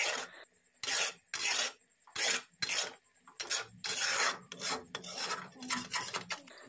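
A spoon scrapes and rubs around a bowl while Amul powdered milk mixture is stirred for a pitha recipe, coming as short repeated gritty strokes with brief quiet gaps between them.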